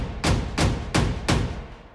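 Four booming hits on two layered tribal drums tuned an octave apart, evenly spaced, each struck together for a deep, full thud with a short ringing decay, heard alone.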